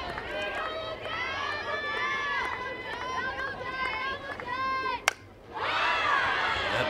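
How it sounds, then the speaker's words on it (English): Crowd noise at an Alabama vs Kentucky college softball game: a big stadium crowd chanting and cheering in rhythmic bursts, with a sharp crack near the end before the cheering swells again. "big crowd. None of them have left here tonight."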